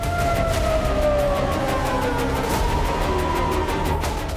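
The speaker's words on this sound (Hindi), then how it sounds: "एयर रेड अलर्ट के सायरन गूंजने लगे" An air raid siren in Tel Aviv wails, droning steadily at high volume, its pitch slowly gliding downward with no voices present.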